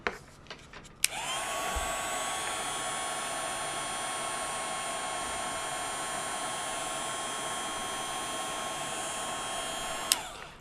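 Handheld heat tool melting clear embossing powder over parts of a butterfly image, switching on after a brief click and blowing as a steady, loud whirring roar for about nine seconds before cutting off.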